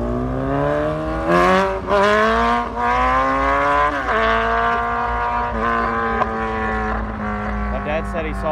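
A Suzuki Hayabusa motorcycle screams at a drag strip, its engine holding a loud, steady high-pitched whine with brief dips and shifts as it revs, heard close and dominant.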